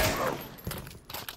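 Gunfire in the VR shooter Pavlov VR during a match against bots: a burst of sharp shots, then several quick close cracks spread across a second and a half.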